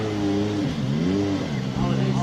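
A WRX Supercar Polo at a hill climb event revs hard nearby, its engine note rising and falling in loud, rasping sweeps.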